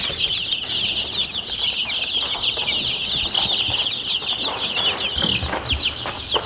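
Excited chicks on a farm cheep loudly and continuously in a dense, high chorus of peeps, close by, with a few soft clucks and rustles underneath.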